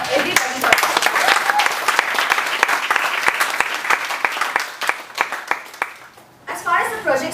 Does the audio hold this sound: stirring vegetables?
no